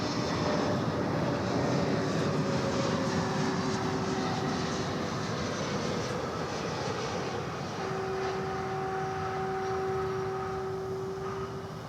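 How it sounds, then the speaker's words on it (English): Airliner arriving from Anchorage and landing at Dallas Fort Worth airport: a loud, steady engine roar with whining tones, continuous across the clip and easing slightly toward the end, with no talk. "here comes the flight from Anchorage on runway DFW"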